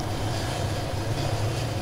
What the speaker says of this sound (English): make sure don't jump until the chopper's perfectly still